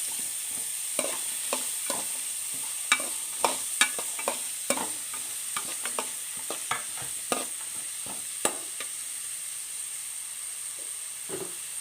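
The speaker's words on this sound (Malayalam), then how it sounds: "സവാളയും കൂടെ തന്നെ പച്ചമുളകും കൂടെ ഇട്ട് കൊടുക്കുക സവാളയൊക്കെ ഒന്ന് മൂത്ത് വരണം" Onions and green chillies frying in a pan give a soft background sizzle broken by repeated sharp scrapes and taps of a spatula being stirred, all close by and with no talking.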